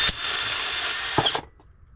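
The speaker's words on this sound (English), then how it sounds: "You hear that sound, that clicking sound? That's my the drill. It's on its" A worn-out power drill runs steadily with a faint clicking buzz, close and fairly loud, then cuts out near the end into quiet; a short tap sounds at the start.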